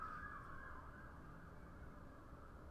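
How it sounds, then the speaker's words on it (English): A faint, distant police siren wails steadily outside over a low, muffled hum, heard from indoors. "There's police sirens going on outside my window."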